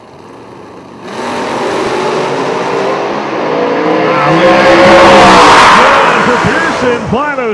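Drag race cars roaring down the strip, a sustained loud engine howl that builds and swells before tapering, with revving sweeps near the end.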